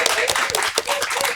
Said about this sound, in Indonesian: Boleh tepuk tangan dulu untuk podcast Naik Kelas.